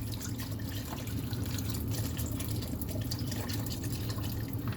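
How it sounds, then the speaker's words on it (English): Bottled water pours steadily into a stew pot for pork stew, giving a continuous close splashing and gurgling fill with no talk. "Yeah, I'm gonna use 3 bottles of water."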